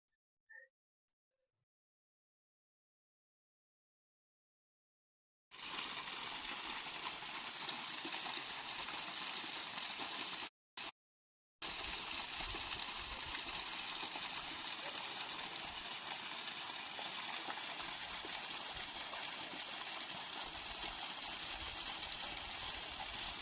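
After several seconds of near silence, a steady rushing of the Ghaggar river's flowing water starts and continues loudly, broken once by a brief cut.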